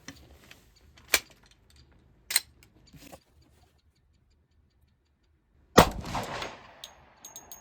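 A few sharp, loud 10mm Auto pistol gunshots with Hornady reloads ring out, widely spaced with quiet gaps, the last one followed by a lingering ringing tail.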